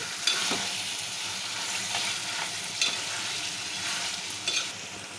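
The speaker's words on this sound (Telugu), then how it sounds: "ఫ్రెష్ పెరుగు ఒక స్పూన్ వేసుకున్నానండి అది మొత్తం ముక్కలు పెట్టే విధంగా కలుపుకోవాలి" A spoon stirs chicken mixed with fresh yogurt in a hot pan for chicken curry, with a continuous sizzle broken by occasional scraping clinks, close and moderately loud, no talk.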